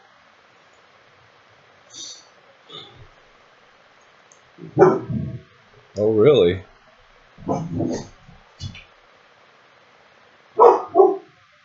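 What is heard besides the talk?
dog barking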